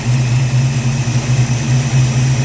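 A Ford Mustang V8 fitted with a QFT Slayer 750 carburetor runs loud and close, its deep engine note rumbling with slight swells in rpm.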